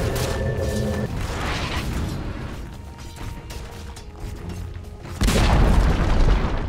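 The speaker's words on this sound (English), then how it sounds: "Dire's bottom tower has fallen." Tower destruction in Dota 2 amid ongoing battle noise: a continuous rumbling clash of game effects, then a heavy booming crash near the end as the structure falls, loud and sustained.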